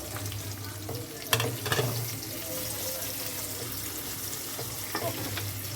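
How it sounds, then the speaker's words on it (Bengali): Long-sliced onions fry in hot oil with a soft, steady sizzle. A few brief stirring clatters rise above the quiet crackle. "পেঁয়াজগুলি দিয়ে একটু ভেজে নেব"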